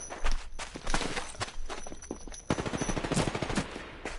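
Gunfire while shooting enemies in a PS4 video game, loud close bursts of automatic fire, single shots early then a rapid rattling stream in the second half.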